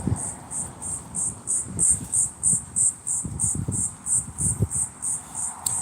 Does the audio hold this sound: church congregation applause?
no